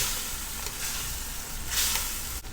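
Chicken wings curry with broccoli being stirred after all-purpose cream is added, a soft continuous simmering sizzle with faint stirring, moderately close and without talk.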